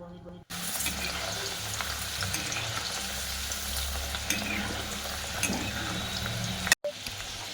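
Chana dal frying in oil over a medium flame: a continuous, close sizzle and bubbling with light stirring, starting and stopping abruptly, no speech.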